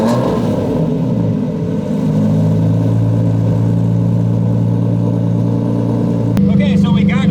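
A Lamborghini fitted with a straight pipe exhaust idles loudly with a deep, steady rumble, rises into a short rev, then settles, and the engine drones throughout with no voices.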